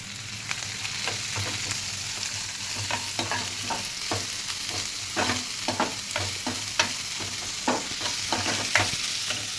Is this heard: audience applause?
no